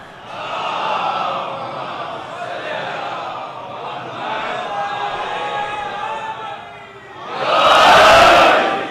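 A crowd at a Muharram religious gathering shouts a religious slogan in unison, a loud, full burst of many voices near the end, after a stretch of sustained vocal sound.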